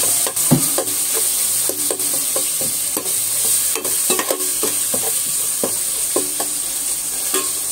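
Tomato sizzles steadily in hot oil in a pan for paneer dum biryani while a spoon stirs and scrapes through it in repeated clicks, close and continuous with no talking.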